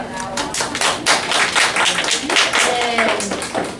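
Clapping from a small audience welcoming cosplayers onto a panel, a brief burst of quick overlapping claps and taps up close, mixed with murmuring voices and a few whoops.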